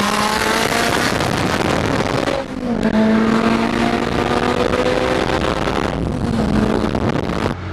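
A turbocharged K20-powered Honda Civic roars loudly under hard acceleration, its engine note climbing and shifting with wind buffeting the microphone, then pulling again.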